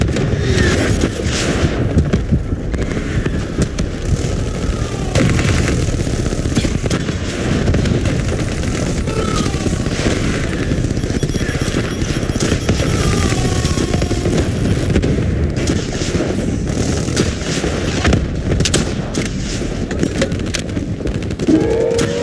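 Missile blasts and gunfire in the video game Call of Duty: Black Ops 3, a dense, loud, continuous barrage of booming explosions and rattling shots with no pauses throughout.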